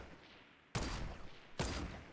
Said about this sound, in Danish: Jeg kan høre nogle skud derovre.